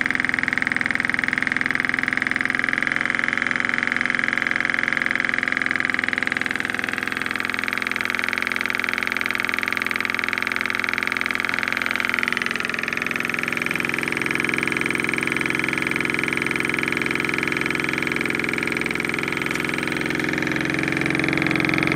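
A Lynx Joule motor generator runs with a steady, loud mechanical hum and whine. Partway through, its speed and pitch shift noticeably before it settles into a new steady drone. No voices are heard.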